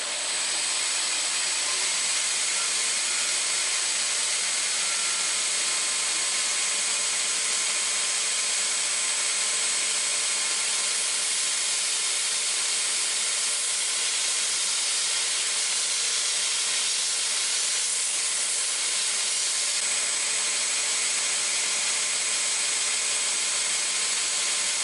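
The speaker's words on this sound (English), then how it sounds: "by low speed grinding on this machine" A low-speed grinding machine works a plastic chef's knife handle, giving a steady bright abrasive hiss with a faint hum, even and unbroken throughout, no talking.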